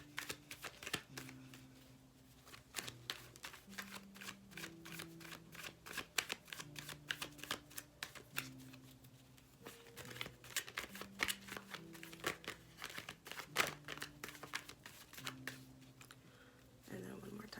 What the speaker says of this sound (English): So I'll just start pulling some more cards for y'all.